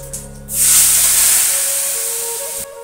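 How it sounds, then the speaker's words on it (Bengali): Masala for a spicy tangra fish curry hits hot oil and chili powder with nigella seeds, letting out a sudden loud, steamy hiss that slowly fades over a couple of seconds, close and with no talk. "দেখো বন্ধুরা এই মশলাটা একটু কষাবো"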